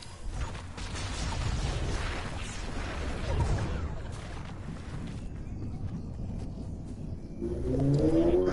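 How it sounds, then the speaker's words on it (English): A loud car passes close by outdoors, a continuous broad roar and rumble swelling and holding for several seconds, with birds audible near the end. "that car was loud."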